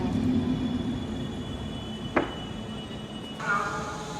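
An Intercity train pulls into Katowice station, a steady rumble of rolling cars with a sharp squeal of wheels midway and a brighter screech near the end.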